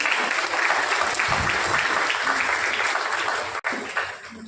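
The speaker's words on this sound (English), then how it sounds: "I request a big round of applause for everyone." A room full of guests and judges gives a round of applause at a college law fest valedictory session, steady dense clapping that holds strong before cutting briefly and tapering near the end.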